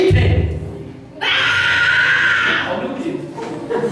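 A church congregation at a Sunday service bursts into loud, sustained shouting together, a dense roar of many voices that swells, holds and then tapers.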